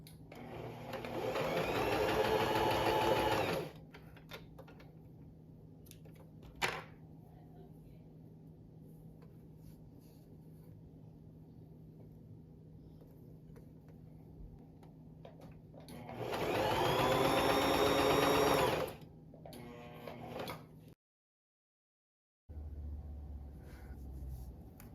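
A sewing machine stitches quilt patches together in two loud bursts of rapid whirring, each a few seconds long, separated by a long quiet gap with a brief click.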